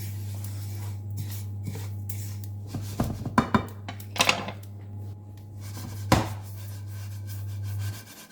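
Sellou ingredients are stirred and turned in a pan, with scattered scrapes and light clanks of a utensil against metal over a steady low hum, moderately close.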